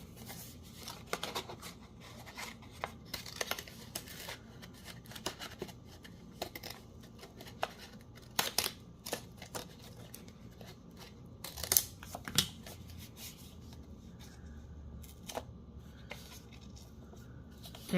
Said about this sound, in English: So I'm gonna trim it with this scissors